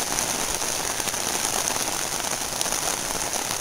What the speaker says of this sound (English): As you can see, it is a downpour of